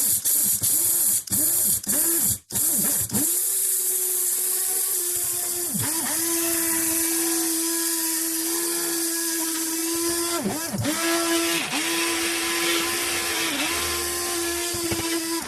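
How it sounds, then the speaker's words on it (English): An electric coffee grinder runs on a cupful of coffee beans, a loud steady whir after a few quick stuttering pulses, then a long continuous grind with brief dips near the end. "filling this grinder cup is enough coffee for 2 mugs. And then this is always the fun part, giving it a good grind."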